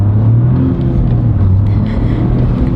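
A Toyota GR Corolla engine running loud and close with a deep, steady low rumble, a slight rise in pitch partway through, heard alone with no talking.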